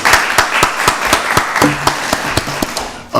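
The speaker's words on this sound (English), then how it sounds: "Let's give Deputy Director Jameson a round of applause." A few people clap for a deputy director at a county board of commissioners meeting, a short burst of distinct, close, sharp hand claps in an uneven rhythm lasting about three seconds.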